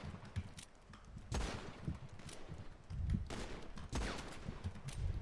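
Video game gunfire crackles in scattered bursts, several sharp shots and short volleys spaced unevenly, moderately close but fairly quiet overall.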